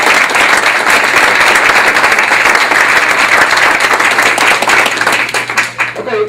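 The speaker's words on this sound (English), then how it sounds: "So would you give a round of applause?" Sustained, dense applause from an audience at an interfaith gathering on fasting in Oklahoma City, loud and steady for several seconds before thinning out near the end.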